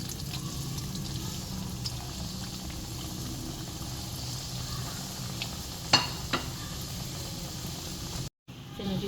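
Chicken cheese box patties fry in Rehman oil with a steady, close sizzle and bubbling, a couple of brief clinks partway through, and a sudden short cut near the end.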